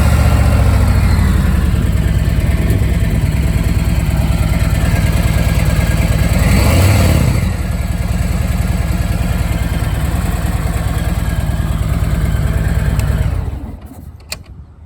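A 2017 Harley-Davidson Tri-Glide Ultra three-wheel motorcycle runs at a loud, steady idle, a deep rumbling engine close by, briefly rising in the middle and then cutting off near the end.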